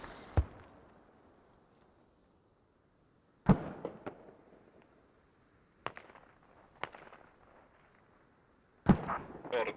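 Grenades and gunfire go off in a squad match of a shooter video game, with sharp, sudden blasts and pops spread across the clip between quiet stretches, the loudest cluster near the end.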